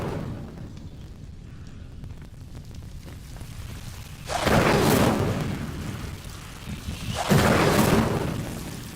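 An Incendio fire spell is cast in the Hogwarts Legacy video game, giving two loud whooshing, roaring bursts of flame a few seconds apart over a steady low ambient rumble.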